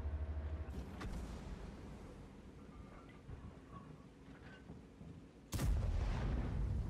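Two sharp, booming video game gunshots: one early and another loud blast near the end, separated by low rumbling background noise and faint clicks.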